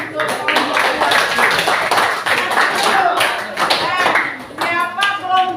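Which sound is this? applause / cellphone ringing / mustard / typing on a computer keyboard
applause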